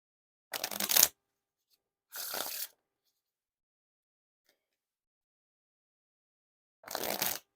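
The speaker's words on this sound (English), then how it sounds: "Now test out the riffle shuffle or bridge shuffle." Three short bursts of riffle shuffling a deck of 2022 Cardcon playing cards, cards whirring together quickly, each under a second long with quiet gaps between them, close and clear.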